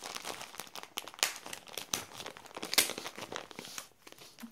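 Tape peeled off a cross-stitch kit package, with close crinkling plastic and paper, sharp tearing bursts and rustling handling throughout, no talk.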